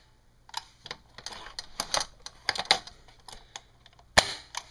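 A Snow Wolf Barrett M99 airsoft sniper rifle fires and is worked, giving a run of sharp mechanical clacks and snaps, irregularly spaced and fairly close, ending in one louder crack.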